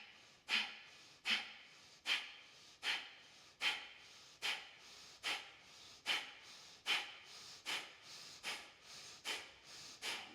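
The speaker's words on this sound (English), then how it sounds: "Kapalabhati breathing. Forceful exhale through your nose." About a dozen forceful nasal exhales during Kapalabhati yoga breathing, evenly paced sharp puffs at roughly one per second, close and loud, with no talking between them.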